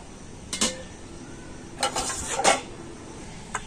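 A lid comes off a covered bowl of semolina batter for a mango recipe, giving a few light clinks and knocks, one near the start and a cluster just after the middle, in a quiet kitchen.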